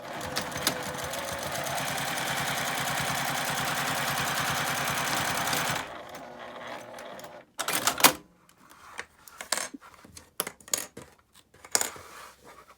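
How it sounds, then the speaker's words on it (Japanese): A sewing machine edge-stitching a felt coin purse runs in a fast, steady mechanical chatter for about six seconds, then stops, followed by scattered clicks and soft handling noises close by. "9センチ折り上げて、ここにも端ミシンをかけます。"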